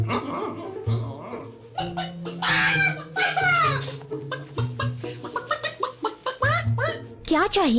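Chicken-like clucking and squawking mixed with voices, with shrill rising calls and busy, fairly loud vocal chatter throughout.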